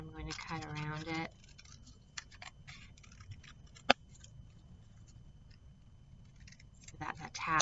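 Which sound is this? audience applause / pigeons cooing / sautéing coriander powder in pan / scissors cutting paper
scissors cutting paper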